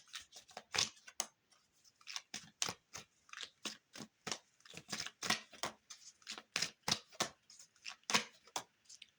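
Tarot cards being shuffled close up, a quick run of crisp riffling slaps and flicks in an irregular rhythm, quiet and alone with no talk.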